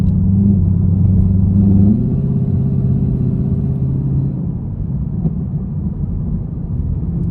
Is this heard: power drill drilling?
no